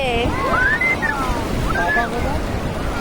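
Sea waves washing in at a beach make a steady loud rush under strong wind noise, while voices call out and talk over it.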